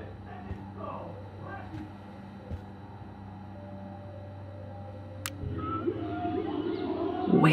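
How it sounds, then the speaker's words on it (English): Whale songs play in the video game Life is Strange, low moaning tones and rising calls drifting over a steady hum, growing louder toward the end. "Whale songs?"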